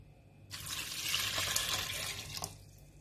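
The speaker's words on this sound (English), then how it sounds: "I'm going to be adding water now" Water is poured steadily into a cooking pot holding a single red onion, a continuous splashing rush lasting about two seconds and then stopping, close and fairly clear.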